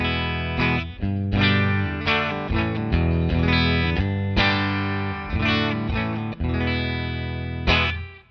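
An electric guitar plays clean chords and arpeggios through a Fender Deluxe Reverb amp on the normal channel with no pedals, ringing notes sustaining and decaying between strums, loud and close.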